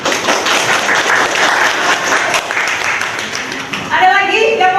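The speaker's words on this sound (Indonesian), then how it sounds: "Aplaus buat Luna." Classroom applause for a student named Luna, a steady burst of many hands clapping nearby for several seconds before a voice begins speaking as it fades.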